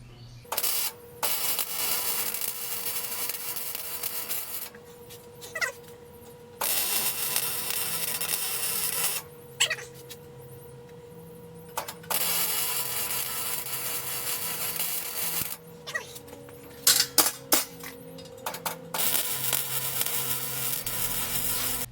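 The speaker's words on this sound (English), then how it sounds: "Going to weld her all up." Scrap steel being welded into a three-in-one shop tool cart, heard as repeated bursts of harsh broadband crackle separated by short pauses, over a steady low hum in a workshop.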